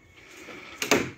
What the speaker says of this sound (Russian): Форточку отдельно открывать. Можно вместе с дверью.